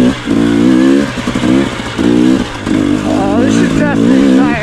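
A dirt bike fitted with Tusk Recon Hybrid tires ridden off-road, its engine revving in repeated loud bursts that rise and drop about once a second, close up, with a rider talking over it.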